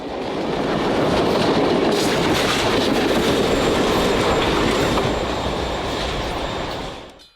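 Nickel Plate Road 765 steam locomotive and its train pass at track speed on a Norfolk Southern Midwest mainline, a loud, steady rumble with clickety-clack of wheels and faint squeal that rises quickly and fades out at the end.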